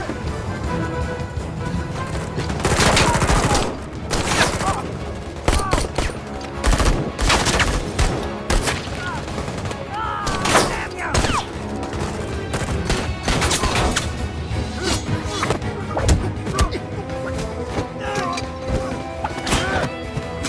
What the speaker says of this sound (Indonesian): Di tengah aksi baku tembak tersebut, Farida sempat menembakkan senjata biusnya